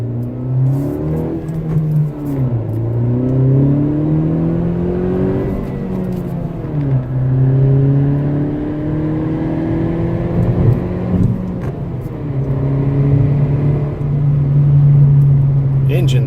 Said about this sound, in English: Engine sounds really good. I love the acceleration of this thing.